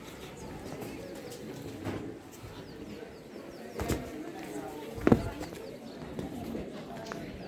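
Doves cooing softly, mixed in with a low rumbling background and a few sharp knocks, used as a sound effect in a told story.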